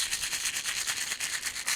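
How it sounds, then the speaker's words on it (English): Small shark teeth rattle and clatter inside a little container, a quiet, steady, rapid shaking with no voices. "this is the sound of shark teeth in a little container"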